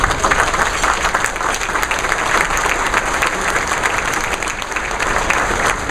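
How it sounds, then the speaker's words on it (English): Loud sustained applause from a luncheon audience at a scholar-athlete awards event honoring standing guests, dense even clapping throughout with no voices over it. "Let's give them a round of applause."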